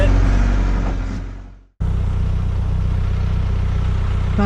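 A backhoe's engine rumbles steadily as it is driven around while laying a culvert. The drone is loud and continuous, breaks off abruptly for a moment, then resumes at full strength.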